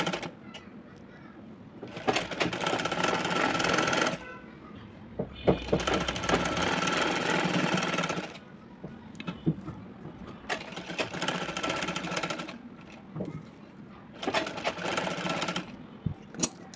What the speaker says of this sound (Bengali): আমি জাস্ট সুতাটা চেঞ্জ করে আর কি লেজের কালারের সুতা নিয়ে আমি পাশ থেকে সেলাইটা করে নেব